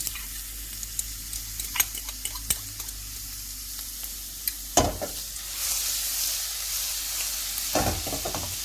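Steady frying sizzle of garlic in hot oil in a pan, with scattered clicks and a few sharper knocks of a utensil stirring, growing a bit louder toward the end.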